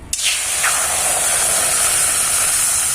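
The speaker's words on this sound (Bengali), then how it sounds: "কড়াইয়ে দিয়ে দেবো এবার একটু জল।" Water poured into a hot wok of fried spices sets off a sudden loud hiss of spraying steam that holds steady for a few seconds.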